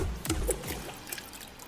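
Water is poured into a pot for a homemade air cooler, a short soft splash and trickle heard close by, fading after the first second.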